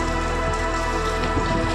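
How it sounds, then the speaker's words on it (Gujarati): Rain falls steadily onto a surface close by, a dense continuous patter that holds even for the whole short stretch, with no voices over it. "વરસાદ ચાલુ છે"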